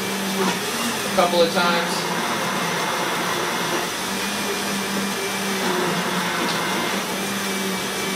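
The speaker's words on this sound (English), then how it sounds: "if you have an immersion blender, one of these little guys" An immersion blender whirs steadily through chocolate tofu mousse, a continuous close motor drone lasting throughout, with a person talking briefly over it.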